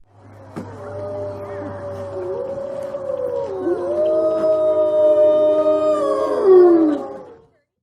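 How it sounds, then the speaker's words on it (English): A wolf lets out one long, drawn-out howl that rises and wavers, then swells louder before breaking off. It sounds close and clear, with no voices around it. "wolf,"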